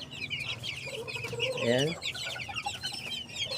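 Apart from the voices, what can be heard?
chicks (sisiw) clucking in a backyard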